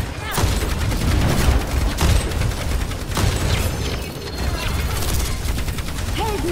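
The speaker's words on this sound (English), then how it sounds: "Rocket barrage incoming!" Pharah's rocket barrage ultimate from Overwatch 2, a dense rapid volley of rocket blasts pounding continuously at close range, with sharp heavy bursts over a sustained roar of gunfire and game effects.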